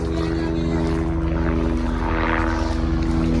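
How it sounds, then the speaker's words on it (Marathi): Helicopter flying overhead near a mud-crab catching spot, a loud, steady droning rotor hum that holds constant throughout. "हेलिकॉप्टर आहे हेलिकॉप्टर उठव"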